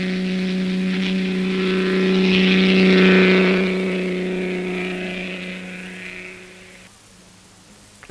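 Vintage racing cars from 1960 storm through a bend at a Vintage Sports-Car Club race, a loud, droning engine note that swells to a peak as they pass close by, then recedes and fades away.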